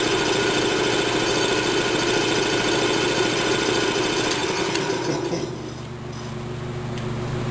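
Curtiss 2HP two-stage air compressor running loud and steady with a mechanical drone and faint rattle, then its pitch drops and the sound eases near the end.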